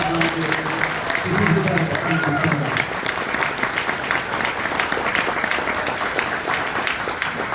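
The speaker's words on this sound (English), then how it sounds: "Please give a round of applause." An audience at a public library event with a comic book author applauds in a steady, dense wash of clapping, with a few voices murmuring underneath in the first seconds.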